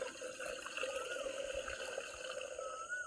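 Fresh palm toddy is poured out at a toddy shop, a soft continuous liquid trickle and splash heard steadily throughout at a quiet level.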